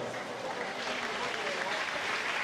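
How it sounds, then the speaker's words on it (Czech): Broad, steady applause rises from the crowd at the Czech winter swimming championships after a women's 50 m freestyle final, a continuous wash of clapping heard from some distance. "myslím, že to stojí za velký potlesk"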